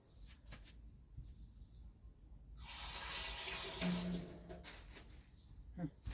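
Water runs from a tap over hands being washed, a steady splashing rush that starts after a quiet stretch and stops near the end, with faint clatter around it.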